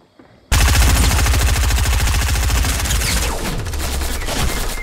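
Rapid automatic gunfire from the video game Fortnite erupts suddenly after a brief quiet moment, then continues as a loud, dense, continuous stream of shots.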